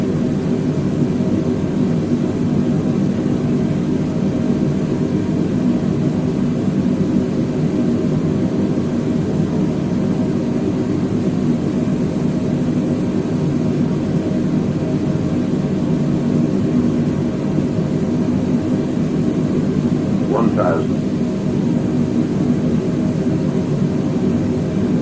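Simulated Airbus A320 jet engines in Flight Simulator 2020 drone as a steady, unchanging low hum during descent, with a brief faint click near the end and no talking.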